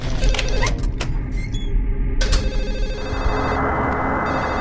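A telephone rings in the Silent Hill 4 apartment, with repeated electronic rings amid eerie game ambience, followed by a shift to a harsh noisy drone.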